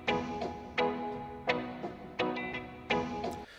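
Sampled dub tune playing a short, quiet loop of rhythmic chord stabs with echoing tails, evenly spaced and alone.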